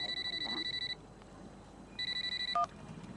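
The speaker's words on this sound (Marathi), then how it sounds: "ताई फोन वाजतोय तुझा" A mobile phone rings in a studio discussion with two bursts of bright electronic beeping separated by a short pause, followed by a brief chirp.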